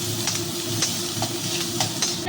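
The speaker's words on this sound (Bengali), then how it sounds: "পেঁয়াজটাকে আমি সুন্দর করে ভেজে নেবো" Finely chopped onion frying in oil, a steady close sizzle with soft rhythmic stirring scrapes over a low hum.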